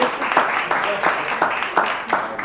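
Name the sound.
audience applause for a speaker in church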